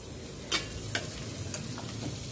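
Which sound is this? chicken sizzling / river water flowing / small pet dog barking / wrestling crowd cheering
chicken sizzling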